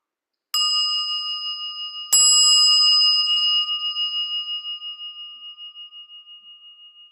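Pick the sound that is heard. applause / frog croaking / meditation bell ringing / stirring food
meditation bell ringing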